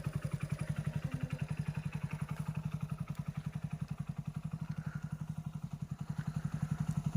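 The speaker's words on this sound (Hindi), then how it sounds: "बाइक जो है स्टार्ट ही रखेंगे" A motorcycle engine idles close by on a dark road, a steady rapid thumping putter that stays even and moderately loud throughout, with no talking.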